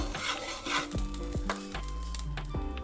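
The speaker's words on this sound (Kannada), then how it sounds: "ಈಗ ಸಾಸಿವೆ ಹಾಕ್ಕೊತಾ ಇದ್ದೀನಿ. ಸಾಸಿವೆ ಹಾಕಿದ ತಕ್ಷಣ ಹಿಂಗೆ ಕೈ ಹಿಂಗೆ ಆಡಿಸ್ತಾನೆ ಇರಬೇಕು" Mustard seeds roast and get stirred in a hot pan while sambar powder is made, giving a steady sizzle with scraping strokes and scattered close pops over about three seconds.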